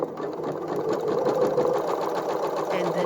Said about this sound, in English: So now I'm just going to keep sewing with the lining.